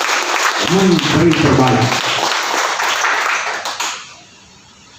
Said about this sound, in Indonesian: Mari kita beri aplaus yang meriah.